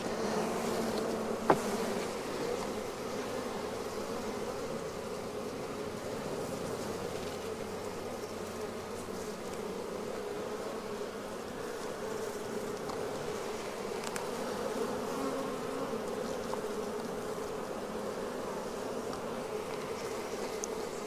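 Honey bees hum steadily inside a relatively strong beehive, a dense continuous buzz close by with one brief knock near the start and no talk.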